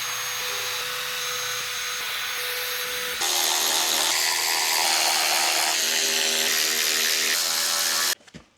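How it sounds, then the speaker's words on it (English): A power drill bores through countersunk holes on the underside of an aftermarket CJM side skirt for a Volkswagen GLI. It gives a loud, continuous whine that climbs to a higher, harsher pitch midway and then cuts off abruptly near the end. "we drilled through the countersunk holes here on the bottom of the CJM side skirt"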